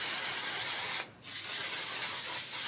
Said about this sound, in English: Hairspray for your face.